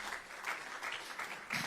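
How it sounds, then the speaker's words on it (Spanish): A church congregation claps together in a strong burst of applause, dense hand claps filling the room with rhythmic swells, no speech over it. "Dele un aplauso fuerte al Señor."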